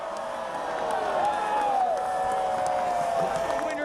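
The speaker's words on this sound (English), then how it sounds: "you can hear the crowd half cheers, half booing right now" Groundhog Day crowd outdoors with a steady roar of mixed cheers and boos, sustained and fairly loud, with a long rising-and-falling whoop standing out above the noise.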